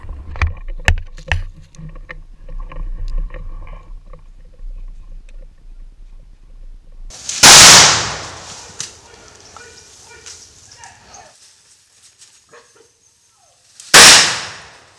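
Gunshots ring out during a licensed wild boar hunt near Bagan Datoh, Perak. Two loud, sharp cracks come several seconds apart, each followed by a short fading echo over quieter outdoor sounds.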